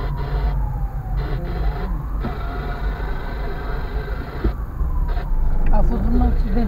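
An ambulance siren wails with rising and falling tones over heavy road traffic and engine rumble on a street in Ploiești, steady and moderately near throughout.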